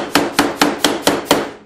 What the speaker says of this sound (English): I like using a hammer.